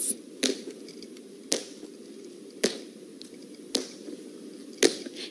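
Slow walking footsteps fall in a sparse, evenly spaced sequence of about five soft steps, each separated by roughly a second of quiet hiss.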